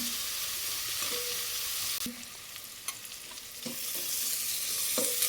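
Onions sauté in a pan for homemade mutton biryani, with a continuous bright sizzle and repeated spatula stirs and scrapes against the metal, no voices.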